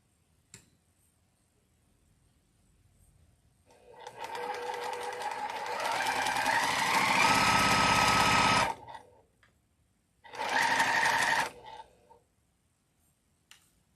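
A sewing machine stitches fabric up close: a long continuous run of fast mechanical stitching that speeds up, a pause, then a second, shorter burst.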